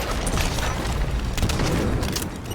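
Gunfire in the video game Halo 5 during a multiplayer match, with a dense run of booming, rattling shots and bursts that carries loudly and continuously throughout.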